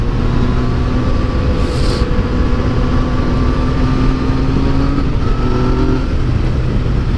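A Yamaha MT-09 motorcycle engine roars up close on a damp road, accelerating and engine braking, its loud, steady drone shifting pitch under buffeting wind.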